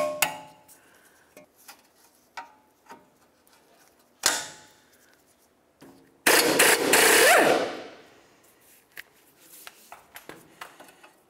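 A cotter pin is driven through a tie rod end nut during wheel bearing and hub work on a 2007-2011 Toyota Camry. Sharp metallic taps are spaced irregularly, with one louder burst and a sustained rattling scrape in the middle, and no talk.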